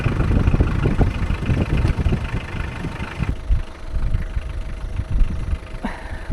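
A stranded small truck's engine idles on a slippery, snowy road, a steady low rumble that continues throughout without talk.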